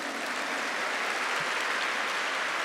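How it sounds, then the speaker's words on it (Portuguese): A church congregation applauds during a Catholic Marian service, a steady, dense wash of clapping at moderate loudness with no other sound. "E por isso, pode aplaudir."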